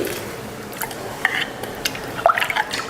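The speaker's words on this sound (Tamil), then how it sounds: "இப்போ அரிசியை சேர்த்துடலாம் இருபது நிமிஷமாக ஊற வச்ச அரிசி" Soaked rice added to a pot of water for prawn biryani, making soft splashes, drips and light clinks of the vessel against a steady background hiss; no talking.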